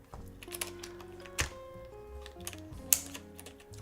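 Soft, uneven clicking of keys being typed on a mechanical keyboard, quiet and close, with a few sharper clacks and a faint tonal hum underneath.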